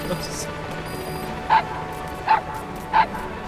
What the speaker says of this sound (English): Oh, look at the puppy.